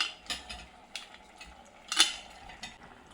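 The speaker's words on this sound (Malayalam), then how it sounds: "ഈ ചക്ക അതിലേക്ക് ഇടണം" Chopped jackfruit tipped into a pot of cooked payar beans for Kerala-style erissery, giving a few quiet, scattered clatters and soft scrapes with no voices.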